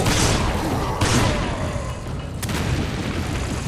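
A grenade blows up in the co-op video game Resident Evil 5, giving a heavy booming blast followed by further thuds and sharp bursts of in-game gunfire, loud and close throughout.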